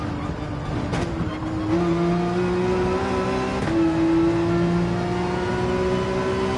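A Porsche 911 engine in Gran Turismo 7 revs hard during a Daytona race, its steady high-pitched drone rising and falling through gear changes, loud and continuous with a brief tire squeal.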